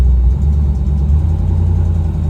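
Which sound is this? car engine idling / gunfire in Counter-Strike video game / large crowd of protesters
car engine idling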